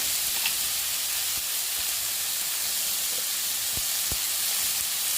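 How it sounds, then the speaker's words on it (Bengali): Potatoes frying in a pan with turmeric and salt, a steady close sizzle and hiss throughout with a few faint taps of a utensil. "এবার আলুগুলো দিয়ে দিই, দিয়ে একটু ভেজে ভেজে নেবো"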